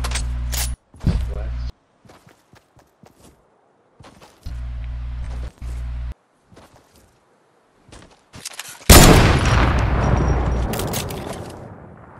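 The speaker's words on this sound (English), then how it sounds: "He's just shooting." Gunfire in the video game Fortnite comes as scattered sharp cracks amid choppy, intermittent game sound. A louder, denser burst near the end fades away slowly.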